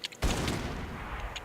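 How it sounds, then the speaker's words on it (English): Video game gunfire in Towncraft: a sudden loud burst of shots opens after a brief quiet, then a sustained rumbling barrage continues close and dense to the end. "Oh, look, I'm being shot at."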